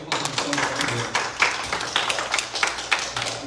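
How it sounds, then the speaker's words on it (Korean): A church congregation at a Sunday service claps together. The applause is dense and fairly quiet, holding steady for a few seconds with sharp individual claps poking through. "박수"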